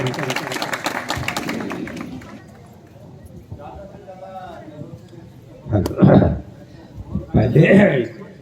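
An audience at a cultural and constitutional knowledge camp in Jamga claps to welcome a speaker. Short bursts of crowd clapping rise near the end, after a stretch of a voice speaking over a public address system.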